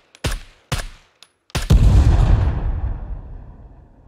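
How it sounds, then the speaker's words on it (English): Rifle shots setting off explosive traps in the SCUM video game: three sharp, close gunshots in quick succession, then a loud, booming detonation that rumbles and slowly fades. "you may have to detonate the explosives by shooting them with a rifle"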